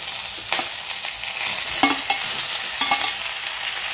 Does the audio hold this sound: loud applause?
no